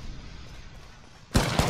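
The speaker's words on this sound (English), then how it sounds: "They spotted me. I'm taking shots." Gunfire in the battle royale shooter Apex Legends, a loud abrupt burst of shots breaking in after a low steady game ambience, with a second crack right behind it.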